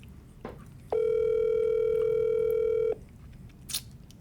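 A phone call's ringback tone sounds as a single steady two-second beep, loud and clear, with soft room noise and small handling sounds before and after.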